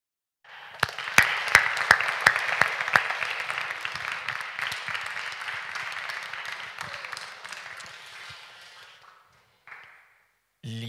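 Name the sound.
audience applause after a film screening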